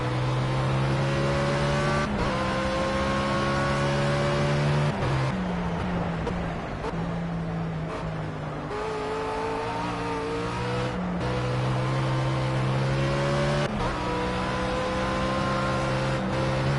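Race car in the video game Project CARS, driven at dusk, with a loud engine whine climbing through the gears and dropping sharply at each shift, repeated several times, while tires hiss steadily underneath.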